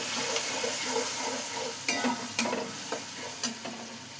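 Spice paste frying and being stirred in hot mustard oil in a pan, a steady sizzle with spatula scrapes and clacks roughly every half second from about two seconds on, close and fairly loud.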